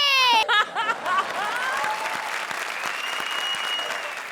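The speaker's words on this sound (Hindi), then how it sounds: "तो जोरदार तालियां हो जाए सलमान खान के फैन के लिए" A studio audience at a comedy show breaks into loud, dense applause right after a brief burst of voices, and the clapping holds steady to the end.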